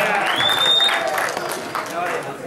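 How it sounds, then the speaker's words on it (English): Audience clapping and applauding during a live Friday show as a guest comes on, a dense, steady wash of claps with a brief whistle and crowd noise throughout. "Give us a clap, don't be shy."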